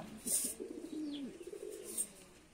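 A pigeon from a Black Diamond racing line gives a soft, low rolling coo close by at fairly low volume, with faint high chirps of other birds around it.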